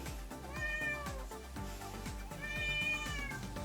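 A house cat about two and a half years old meows twice in drawn-out, wavering calls, close and clear, over a steady low background hum.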